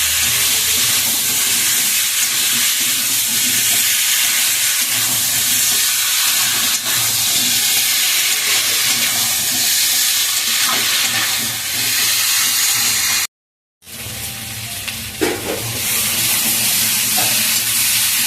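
Potatoes sauté in a pan for a tangra fish curry, producing a loud, continuous hissing sizzle broken by occasional stirring scrapes and a brief complete dropout partway through, with no one speaking.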